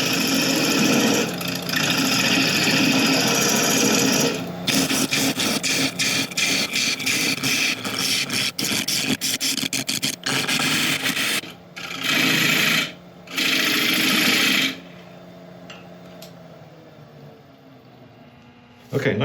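A woodturning lathe spins a very hard apple log at about 800 RPM while a 3/8 inch ball gouge cuts into it, a loud continuous rasping with bursts of chatter that drop out briefly near the end.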